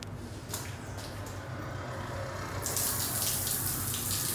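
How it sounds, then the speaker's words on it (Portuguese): Water runs from a small handheld shower head in a basic outdoor washing spot, a steady broadband hiss that swells louder partway through, with no talking. "Aqui tem um chuveirinho, vamos ver se vai ter água."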